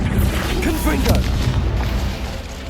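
A Confringo spell blast in Hogwarts Legacy, a loud booming burst that rumbles and fades over a few seconds, with no talking over it.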